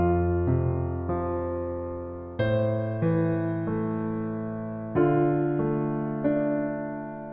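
Piano chords from a song ring out alone, about nine sustained chords struck one after another at an unhurried pace, each fading slowly before the next.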